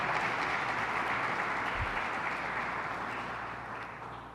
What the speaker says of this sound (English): Can we give the Governor another round of applause for her leadership?